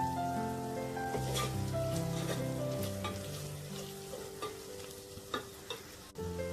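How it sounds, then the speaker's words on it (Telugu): Ginger garlic paste with turmeric, coriander and cumin powders frying in a pan for mutton drumstick curry, a dense crackling sizzle that thins toward the end, with a few spoon knocks and no talk. "అల్లం వెల్లుల్లి పేస్ట్ వేసుకొని వేయించుకోవాలి."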